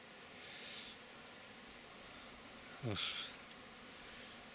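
Honeybees buzz at a hive's flight board, faint and close, with one sharper buzzing pass as a bee flies by over a quiet hum.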